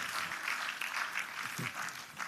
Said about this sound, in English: Give God a mighty clap offering.